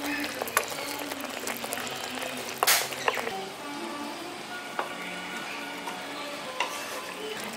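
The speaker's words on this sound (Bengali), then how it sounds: "এবার মশলার সঙ্গে ভালো করে মিশিয়ে দিচ্ছি" Brinjal curry being stirred in a pan with a spice mix, with a soft steady scraping and gentle sizzle, plus a few sharper clinks of the spoon against the pan.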